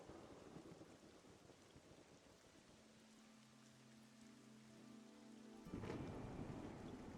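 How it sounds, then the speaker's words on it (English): Heavy rain pours in a video game storm while a steady tone hums through the middle. A sudden loud crack of thunder follows, then a rumbling roar close by, with no voices. "Oh gosh, look at that lightning strike."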